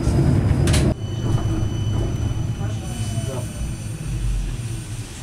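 A tram in Ulan-Ude rolls along with a steady rumble and rail noise, a high squeal rising briefly as it moves.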